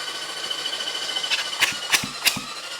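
A seized Honda CB750 motorcycle engine, freed after its cylinders were honed, is turned over. A few evenly spaced muffled compression thumps come close together toward the end over a low background hum.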